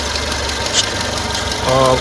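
A 2015 Tata Zest XMS petrol car engine idles close by, a steady low rumble with a slight knocking texture; a voice speaks briefly over it.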